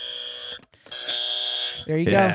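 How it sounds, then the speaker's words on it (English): A trivia-game answer buzzer sounds in a steady, loud electronic tone lasting over a second, after which people talk and laugh close by. "Okay, you got your buzzer. I have my buzzer."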